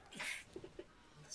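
A faint, brief sneeze, a sharp breathy burst followed by a few small vocal sounds, quiet and close.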